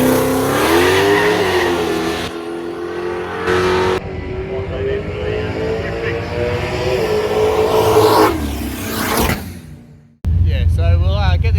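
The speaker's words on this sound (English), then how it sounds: "so we'll grab Peter's last practice run" A turbocharged drag car makes a practice run at a no-prep drag racing event, a loud engine revving and climbing in pitch through gear changes, with tyre squeal, then a cut to a car idling and a voice talking.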